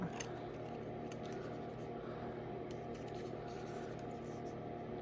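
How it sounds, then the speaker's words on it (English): Scissors trimming 12 x 12 paper for a junk journal box holder, giving faint, rapid snipping ticks over a steady background hum. "And then I'm just gonna trim this down."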